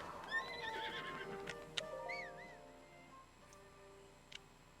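A horse in a video game whinnies in a rising, wavering call, followed by a second shorter neigh, with soft hoof clip-clops and faint background noise.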